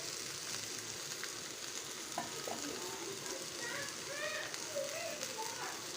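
Crushed ginger and garlic, tomato and curry leaves fry with onions for chicken curry, a quiet steady sizzle with occasional stirring scrapes and faint clinks.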